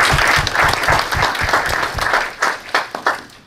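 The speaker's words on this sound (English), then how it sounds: "Please give him a big round of applause." A crowd applauds loudly and steadily, then the clapping thins out and fades to scattered claps near the end.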